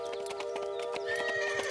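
Three riders' horses clip-clop in a quick, steady rhythm of hoofbeats under sustained music, with no voices.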